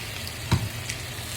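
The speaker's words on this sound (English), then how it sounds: "Okay, everyone, it's time to cook the second batch of our steak." Filet mignon steaks sizzle steadily in a hot pan, a constant crackling hiss with one brief louder spatter, no voices over it.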